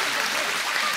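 Dense, steady audience applause fills a theater after a stage play performance, a continuous close wash of many hands clapping with no pause.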